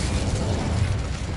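In the video game Hogwarts Legacy, an Incendio fire spell bursts out as a dense, continuous roaring whoosh of flame. It is loud and steady for its whole brief length, with no speech.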